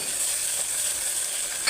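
Ginger garlic paste tipped into onions frying in a pan, giving a loud, constant hiss of sizzling oil with faint stirring scrapes and a small clink at the end.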